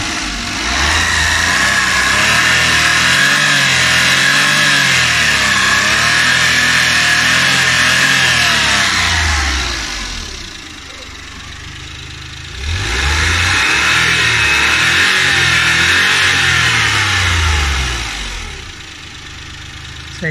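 Suzuki Every Wagon DA64W turbo engine revving after a fuel injector cleaning, loud and close, held high for several seconds, dropping back to idle, then revved again.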